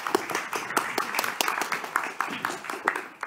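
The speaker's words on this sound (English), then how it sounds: "So please, a big applause for Gert Meijers." An audience at a university lecture event applauds a speaker being introduced, giving a steady patter of many hands clapping at moderate volume.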